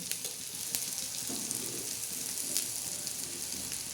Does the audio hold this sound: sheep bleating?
no